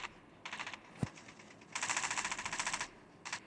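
Rapid automatic gunfire rattles in bursts in a Call of Duty battle royale video game, beginning with a short burst, then a longer sustained stream, then one brief final burst. The shots sound fairly far away and faint, with one low thump between the bursts.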